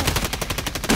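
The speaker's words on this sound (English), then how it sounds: "Someone shooting from behind." Rapid automatic gunfire in the video game Warzone, a fast continuous burst of loud, close shots filling the whole second.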